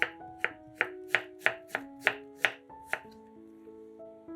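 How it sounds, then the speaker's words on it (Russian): A knife dices a fresh cucumber into small cubes on a cutting board, about ten crisp, evenly spaced chops close up, followed by a softer tail with faint ringing tones. "Огурец нарезаем небольшими кубиками."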